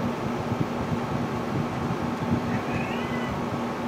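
A house cat meows indoors in a short, mid-distance call, heard over a steady background hum like a fan or air conditioner.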